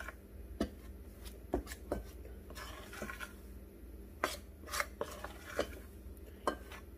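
Two-ingredient pizza crust dough is stirred together in a bowl, a quiet close-up of soft mixing with irregular sharp clinks of a utensil against the bowl's side.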